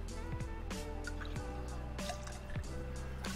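A half-ounce of Maraschino liqueur goes into a cocktail shaker as a quiet, close trickle broken into several small drips and splashes.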